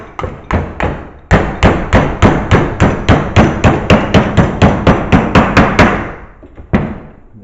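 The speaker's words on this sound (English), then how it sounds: "and do some hammering." Steady hammer blows on sheet metal clamped in a vise during cowl rust repair on a 1966 Ford Mustang: about twenty sharp, ringing strikes in a fast, even rhythm, loud and close, with a short pause near the end before one last hit.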